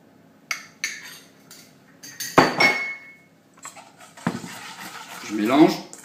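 Clafoutis batter with cherries, hazelnut and chocolate being mixed in a bowl, with scattered clinks of a utensil against the bowl, a sharp knock midway and scraping strokes toward the end, near and fairly quiet between gaps.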